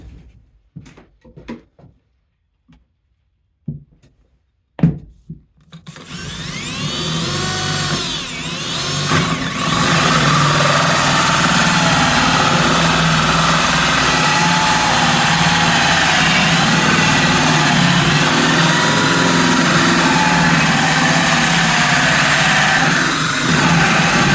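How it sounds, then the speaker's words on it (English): After a few sparse knocks and clicks, a loud continuous electric drill whine starts and runs steadily, close and sustained, drilling a hole in a lid for a bucket feeder. "Grab my drill."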